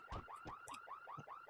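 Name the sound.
car-alarm-like sound from the video game Pokémon Colosseum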